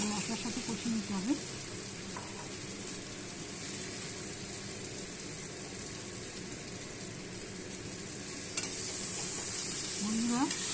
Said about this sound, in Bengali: হ্যাঁ, আলুটা মশলার সাথে ভালো করে কষিয়ে নিই।